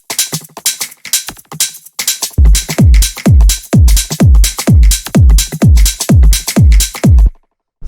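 Background percussion loops in a deep minimal house track play with hi-hats, a steady pulsing pattern of short ticks and clicks joined halfway by punchy booming low hits on each beat, loud and close, cutting off near the end.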